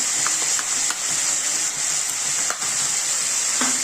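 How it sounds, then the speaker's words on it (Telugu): Raw chicken being mixed by hand with turmeric, salt and ginger-garlic paste in a bowl, giving a steady wet squelching and stirring noise with a few soft clicks throughout, no talking. "అంతా వేసుకొని మళ్ళీ ఒకసారి బాగా కలుపుకోవాలి."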